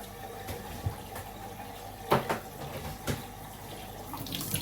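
The sieve from an iLife W90 wet-dry vacuum rinsed under hot running tap water: a faint, steady stream broken by a few soft knocks and clatters as it is handled.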